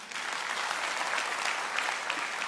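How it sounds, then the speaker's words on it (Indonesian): An audience in a church sermon setting breaks into applause, a dense steady clatter of many hands clapping that holds evenly for a couple of seconds with no talking over it. "Tepuk tangan dulu."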